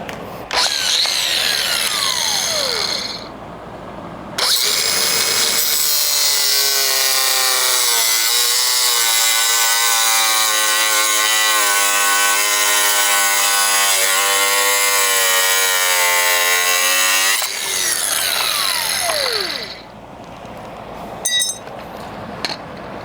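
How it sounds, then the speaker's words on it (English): A power cutting tool slices through a metal bar on a Gen3 Ford Raptor during an LED light bar install. It gives a loud, sustained, whining cut of about twelve seconds that rises in pitch, with shorter bursts of tool noise before and after, and no talking. "we gotta cut this bar off."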